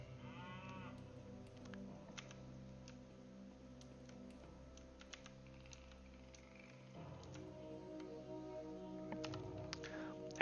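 Cow lowing inside a World of Warcraft-style fantasy dungeon: a few drawn-out low moos sit under steady game music and scattered clicks, with no talking.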